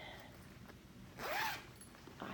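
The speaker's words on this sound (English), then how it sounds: "zipper" A zipper on the back pocket of a piano bench bag is pulled open in one quick rasping stroke, close and fairly soft, with a quiet room around it.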